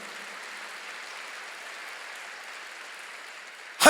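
Congregation in a church service applauding at the pastor's call, a steady wash of many hands clapping at moderate distance, holding even throughout before a sharp louder burst at the very end.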